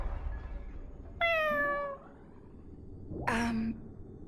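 A cat meows in the video game Honkai: Star Rail, giving two distinct, close, clear meows, the first a long falling tone and the second shorter, over a low background hum.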